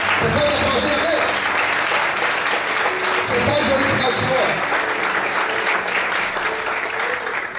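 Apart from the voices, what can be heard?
church congregation applause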